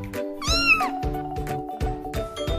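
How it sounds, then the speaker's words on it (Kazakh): A single cat meow, rising and falling over about half a second, sounds clearly over steady, rhythmic background music with repeated soft beats. "Мысық."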